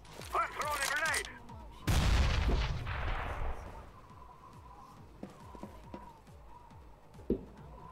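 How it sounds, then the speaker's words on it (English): A grenade explosion and gunfire in Counter-Strike: Global Offensive, a loud blast after a shout, followed by scattered distant shots and clicks rattling on over several seconds. "I'm throwing a grenade!"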